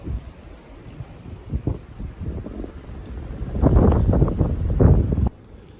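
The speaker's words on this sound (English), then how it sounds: "Snowy and windy." Gusty wind on a snowy Smoky Mountains bald along the Appalachian Trail buffets the microphone in low rumbling bursts, growing stronger and rougher toward the end before cutting off abruptly.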